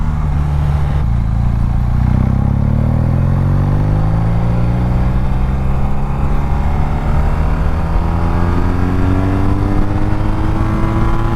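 A BMW R nineT Pure motorcycle engine-brakes under way, a loud close engine note that revs up and then winds steadily down in pitch as the bike slows, with wind rush underneath and no talk.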